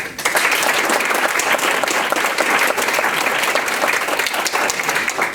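Sustained audience applause at a school board meeting honoring a student of the month, steady dense clapping filling the room for several seconds without speech.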